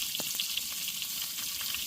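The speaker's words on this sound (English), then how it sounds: "So I'm fixing to fix up some of this bacon." Bacon fries in a pan with a dense, steady hiss of sizzling grease and a few brief crackles, moderately quiet and close, no speech.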